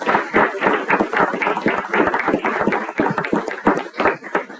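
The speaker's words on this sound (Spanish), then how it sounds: "Un aplauso, ¿no?" A small audience at a talk on raising investment claps, with dense, uneven hand claps close by that stay steady for several seconds and fade toward the end.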